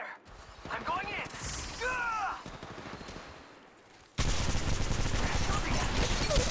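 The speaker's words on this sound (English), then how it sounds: "They're shooting at me." Gunfire in the mobile battle royale game Apex Legends Mobile, a dense burst of rapid shots in the second half after quieter game sounds, with a voice speaking early on.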